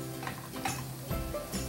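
Feijão tropeiro with ground cumin, hot paprika and ground coriander is stirred in a pan, giving soft scraping strokes and light clinks over a faint background hum, quiet and close.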